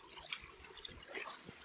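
Water trickles and drips out of an abandoned historic mine entrance at Manorgill Hushes in the UK, a faint, close, irregular babble of small splashes and gurgles.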